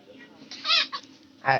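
A single chicken clucks close by in a short burst, followed by another louder cluck, with a faint low hum in the background.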